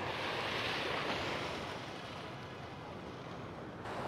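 Calm sea waves wash steadily at Doi Duong beach in Phan Thiet, a continuous broadband surf wash with some wind noise, fairly loud and close, without talk.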